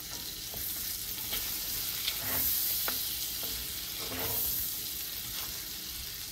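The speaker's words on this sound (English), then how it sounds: "And then I'm going to add some garlic, because what we're making here is a garlic butter." Garlic sizzles in melted butter in a pan with a steady frying hiss, broken by a few stirring scrapes and brief louder bursts, close and alone with no voices.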